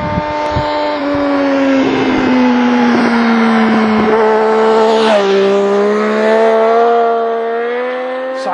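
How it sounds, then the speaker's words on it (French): Triumph 675R sport motorcycle engine held at high revs, a loud, steady whining drone that dips and climbs slightly, with a few quick throttle blips at the start. "Duncan il est parti avec sa bécane nous faire écouter son petit bruit et après il se mettra juste à l'arrêt pour nous faire écouter la sonorité"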